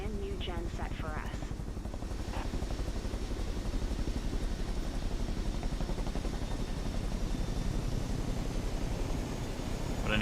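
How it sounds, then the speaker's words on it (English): Chinook helicopter in Microsoft Flight Simulator 2024 gives a steady, loud rotor roar and engine drone that fills the whole stretch, with a voice speaking briefly over it near the start. "this Chinook is awesome"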